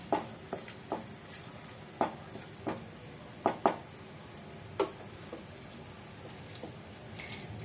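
A dry red chilli crackles in hot oil as it is stirred: a scattering of sharp, close pops and clicks over a faint steady hiss, with no voices.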